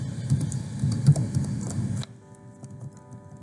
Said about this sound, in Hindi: मिसाल के तौर पर अब मैं टाइप करता हूँ